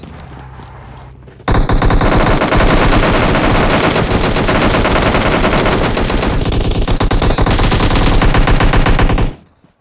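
Heavy, continuous automatic weapon fire in the video game PUBG Mobile, loud and nearly unbroken for about eight seconds after a quieter start, then stopping sharply.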